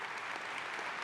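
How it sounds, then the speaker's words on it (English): A conference plenary audience breaks into a brief burst of applause, a dense, steady patter of many hands clapping at moderate distance. "You got applause for that."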